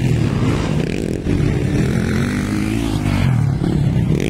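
A racing motorcycle engine at an expert open race drones loud and steady, its pitch wavering slightly as it holds high revs throughout, with no voices over it.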